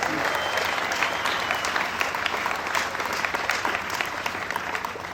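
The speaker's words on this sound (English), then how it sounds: "Let's give him a round of applause." A large crowd at an AIDS Walk opening ceremony applauds steadily, dense clapping filling the room for several seconds without letting up.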